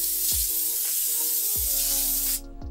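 An atmosphere aerosol haze can spraying indoors, a loud close continuous hiss that runs for over two seconds before cutting off, with a few soft knocks underneath.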